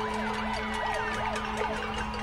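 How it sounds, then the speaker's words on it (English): An ambulance siren wails in repeating rising and falling sweeps as it passes a highway protest in Puerto Rico, heard steadily at moderate distance over a low crowd and traffic rumble. "Right now, an ambulance is actually coming by"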